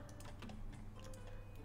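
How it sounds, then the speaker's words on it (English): Rapid double clicks of a computer mouse at a desk, with sharp light taps repeating in quick pairs close to the mic over a steady low hum. "That double clicking."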